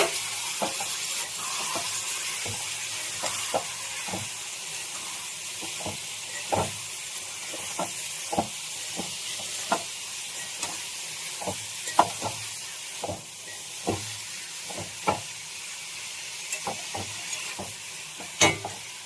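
Vegetables and tomatoes fry in a pan for Bengali dal, a continuous sizzle broken by regular clinks and scrapes of a spoon stirring throughout.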